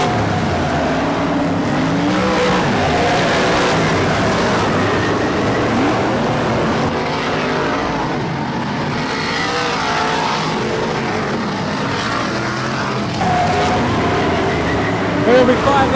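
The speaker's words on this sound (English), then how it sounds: "So as they go down the back straight, Bobby Griffin a lap down as they go through" BriSCA F1 stock cars roar down the back straight at Mildenhall during a 2019 final, a continuous loud engine drone with passing surges, under a commentator's voice.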